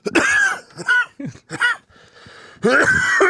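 Several harsh coughs and throat clearing sounds up close, in bursts with short pauses between them.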